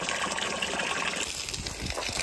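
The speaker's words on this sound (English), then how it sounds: "Fresh water coming in." Fresh water gushing in, a steady broadband rush that holds at an even, fairly loud level for the whole stretch, with no talk over it.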